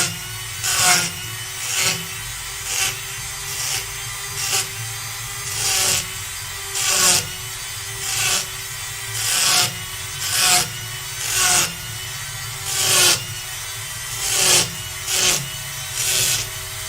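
A woodturning texturing tool works the face of a wooden piece on a locked lathe spindle, cutting a random pattern with repeated rhythmic rasping strokes, each a short scratchy burst at close range, with no talking.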